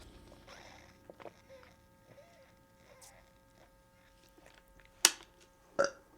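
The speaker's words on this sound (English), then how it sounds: "Oh man, burping a lot today." Two loud, close burps come near the end, after a quiet stretch with only faint background noise.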